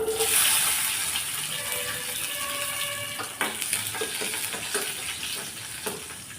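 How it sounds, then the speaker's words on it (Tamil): Mustard seeds and chopped shallots sizzling in hot oil for sambar rice, a steady close hiss with scattered pops and crackles from the seeds and a few clinks from stirring. "இப்போ கடுகு நல்லா பொறிஞ்சிருச்சு அதில் ஒரு நாலஞ்சு சின்ன வெங்காயம் இந்த மாதிரி குட்டி குட்டியாக கட் பண்ணி வச்சுருக்கேன் அதை சேர்த்துடலாம்"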